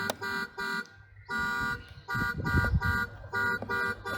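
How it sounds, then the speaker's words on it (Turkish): An electronic horn on a battery-powered Mercedes GLA ride-on toy car honks in short repeated bursts with brief pauses, a bright buzzing tone mixed with some louder rumbling noise in the middle. "Ortaya da bastığı zaman normal korna sesi."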